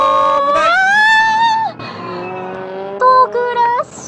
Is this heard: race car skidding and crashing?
yes